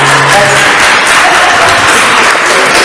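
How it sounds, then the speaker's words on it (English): An audience at a medium's live show claps loudly and continuously, a dense, close wash of applause lasting a few seconds. "Let's give a clap to the right."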